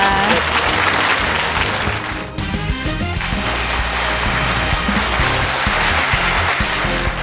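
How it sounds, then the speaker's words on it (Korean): A studio audience at an ideas contest breaks into loud, dense applause that stays strong throughout, with a brief dip early on and a continuous roar of clapping close up. "여러분 뜨거운 격려의 박수 보내주시면 고맙겠습니다"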